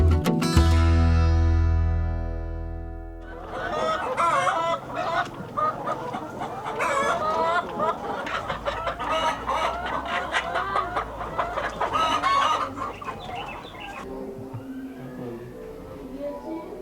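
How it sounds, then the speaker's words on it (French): Laying hens on a poultry farm, a dense, loud chorus of clucking and squawking that runs for many seconds after a musical opening, fading near the end. "le couple a décidé de se lancer dans l'élevage des poules pondeuses"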